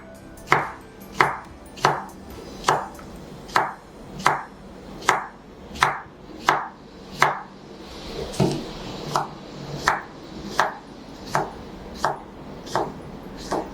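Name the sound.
knife chopping English cucumber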